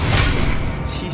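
Depulso knockback spell striking in Hogwarts Legacy, a loud crashing whoosh-and-smash impact burst that fades over about a second.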